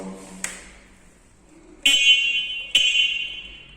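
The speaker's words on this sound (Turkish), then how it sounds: "Kornamız ekrandan sinyal de gösteriyor." Two separate honks from the horn of a Motolüx F4 electric scooter, each a short, bright, buzzy electronic tone about a second long, coming after a faint click, close and clear with nothing else going on.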